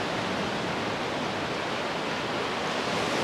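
Waves washing steadily onto a beach shore, a continuous broadband rush of surf and water, fairly loud and even, with no talking.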